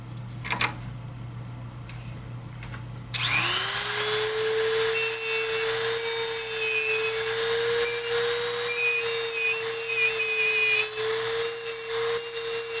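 A motorized tool sanding a wooden feather carving: after a quiet start with light knocks, a loud, steady high-pitched whine kicks in and holds for the rest of the clip.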